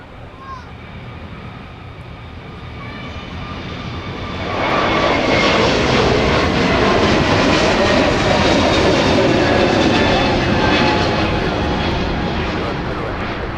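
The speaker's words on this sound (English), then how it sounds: "Delta 1651 is about ready to get into the air here now on the roll for Los Angeles" A Delta jet airliner begins its takeoff roll on an MSP runway bound for Los Angeles, faint engine hiss swelling abruptly into a loud, sustained roar that holds steady, then eases slightly as it climbs away.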